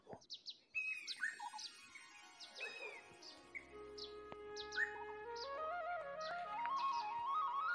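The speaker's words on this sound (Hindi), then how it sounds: "ये किसी चिड़िया की आवाज़ है" Bright morning bird chirps and tweets in quick irregular bursts, fairly close, with a sustained tonal note building underneath toward the end.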